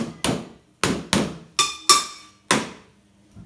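Wooden spoons drum on plastic and metal in six sharp, separate strikes in an uneven rhythm, the later hits ringing brighter and more metallic, heard close and alone.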